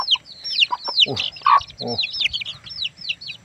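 Domestic chickens and their chicks cluck and cheep close by, a busy mix of short repeated calls and high peeps, with a brief voice-like sound in the middle.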